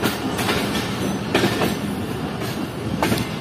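A privatized passenger train, the 106 Down Rawal Express rake, pulls into Rawalpindi railway station, with a steady rumble of railcars and wheels and faint periodic clicks and squeals on the rails, continuous and fairly close, no talk.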